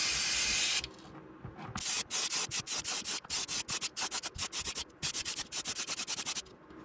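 Pearl white paint is sprayed onto a fishing bait, starting with one loud hissing blast and then breaking into a quick string of short, evenly spaced spray bursts up close.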